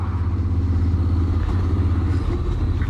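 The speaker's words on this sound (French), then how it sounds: "Genre d'imbéciles là qui font des wheelies dans le noir." Motorcycle engine on a road at night, where riders pull wheelies, droning steadily and loudly with a low rumble for about three seconds, no voices over it.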